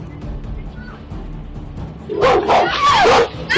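A dog barks and yelps repeatedly at close range, an agitated burst of high, strained barks and whines rising sharply over low background noise in the second half.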